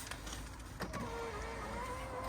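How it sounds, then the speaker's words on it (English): Electric entrance step of a Globecar Globestar 600 L motorhome motoring out, a thin whirring electric motor hum starting after a soft click and running steadily under a constant background rumble. "The entrance step is operated by this switch here."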